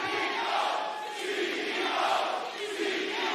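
A packed wrestling arena crowd in Toronto cheers and roars continuously, a loud, sustained wall of voices with rising swells.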